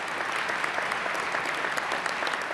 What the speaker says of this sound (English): Let's applaud the family and all those who helped them to this day.